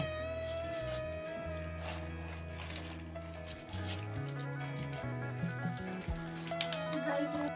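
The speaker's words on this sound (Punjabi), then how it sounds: "ਆਟਾ ਤੇ ਘਿਓ ਚੰਗੀ ਤਰ੍ਹਾਂ ਰੜ ਚੁੱਕੇ ਨੇ" Flour and ghee roast in a pan for panjiri, giving a soft, continuous sizzle and crackle under steady background music.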